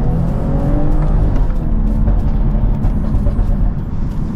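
A BMW 540i with the B58 engine launching under launch control, giving a loud, continuous engine roar that holds steady and dense throughout, with no voices.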